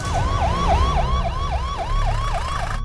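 An ambulance siren in a film scene wails in a loud, steady up-and-down cycle of about nine repeats, with a low vehicle rumble beneath it.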